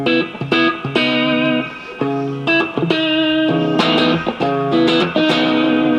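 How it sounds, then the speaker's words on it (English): Electric guitar played through a Blackstar ID Core amplifier with a clean, bright tone pushed slightly by gain, strummed chords ringing with reverb in a steady rhythmic pattern. "let's get an electric guitar tone"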